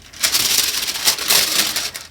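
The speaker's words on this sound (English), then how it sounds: "Wax paper is so noisy" Stickers are peeled off noisy wax paper, giving close crinkling and crackling bursts in a couple of sustained rustles with short pauses.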